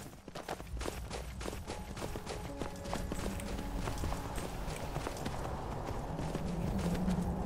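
Horse hooves clip-clopping steadily while riding in the video game Skyrim, a continuous galloping rhythm over windy ambience, fairly quiet.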